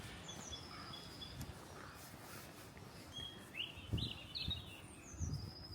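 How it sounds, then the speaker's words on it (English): Faint song thrush, great tit and blackbird sing in the distance at Woody Head, St Lawrence, Isle of Wight, whistling and trilling over quiet outdoor ambience. "Song thrush, great tit, blackbird."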